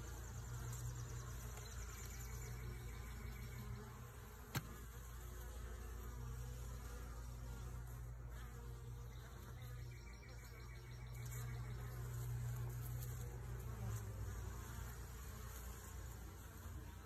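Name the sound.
honeybees buzzing at the hive entrance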